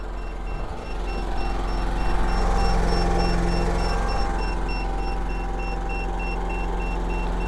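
A portable carbon monoxide monitor's alarm beeps steadily in repeated high-pitched tones over a loud continuous engine rumble, with no talking.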